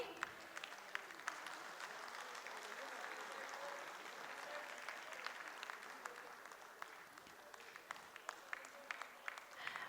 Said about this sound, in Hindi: आप सभी की लगातार तालियां होनी चाहिए।